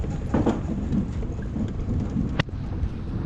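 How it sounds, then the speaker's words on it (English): Vehicle crossing a toll bridge overhead, heard from a paddleboard underneath on the River Wye; a low, steady rumble with a couple of sharp knocks, close above and alone without talk. "You can hear a vehicle just crossing over the toll bridge there."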